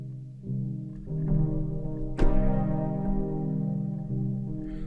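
The velocity-sensitive PD Fond Dreams synth preset is played gently for a smoother tone. Several soft, sustained chord notes enter one after another and ring together with a mellow, even sound.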